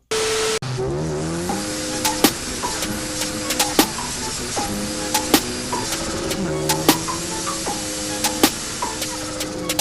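A modified 250 bhp Fiat Uno Turbo drives hard with repeated tire squeals and rising, falling tonal skids, punctuated by sharp clicks over a constant loud engine and road roar.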